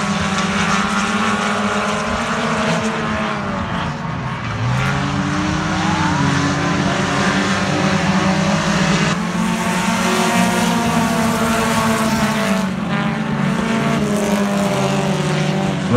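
Race cars in a feature race at Morden, a loud continuous engine roar with rising and falling pitches as several cars pass in sequence, dense and sustained over the full stretch.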